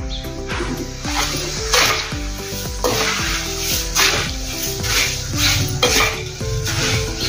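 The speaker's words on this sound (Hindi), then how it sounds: "अभी इसमें हम जो हमने चिवड़ा बनाया था वो इसमें डाल देंगे।" Prepared chivda poured into a pan while making murmura chivda namkeen, with metal clinks of a spoon against the pan and rattling scrapes in an uneven rhythm, close and clear with no talking.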